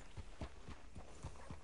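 Horse hooves clip-clop steadily in Red Dead Redemption 2, arriving outside a sheriff's office: a faint, regular trotting rhythm of about seven hoof strikes over a soft background bed.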